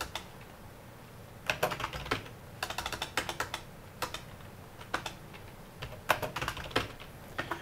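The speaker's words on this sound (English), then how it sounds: "just go ahead and type your name" A name being typed on a computer keyboard: quiet, clustered bursts of rapid key clicks separated by short pauses, close and alone in a hushed room.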